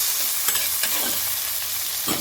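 Tomatoes tumble into a pan of frying ginger, setting off a steady close sizzle while a utensil stirs and scrapes through the mixture in a few distinct strokes.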